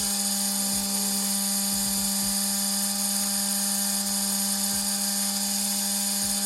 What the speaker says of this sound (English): I'm gonna cut it about 1 inch longer.